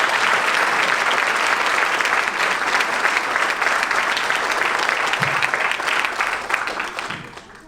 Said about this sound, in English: another round of applause for Jackie Spinn and Wendy Cumberland, recipients of tonight's Educator Award